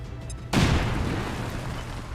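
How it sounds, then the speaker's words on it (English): A grenade detonates in a turn-based strategy game, a single sudden loud boom at about half a second followed by a long rumbling decay that fills the rest of the clip. "Grenade out. Grenade number 1."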